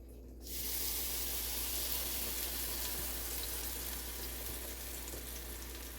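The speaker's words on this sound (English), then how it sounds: "your cast iron skillet is hot and it might sizzle" Cornbread batter hitting a hot cast iron skillet set on low, a sudden onset of steady broadband sizzling that holds evenly throughout, close and moderately loud with no talk.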